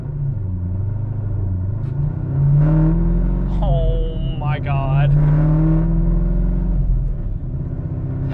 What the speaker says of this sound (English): That is so stupid how loud this car is.